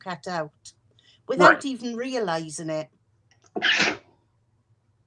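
One loud, sharp sneeze bursts out between stretches of someone talking indoors, followed by a short remark, with quiet pauses in between.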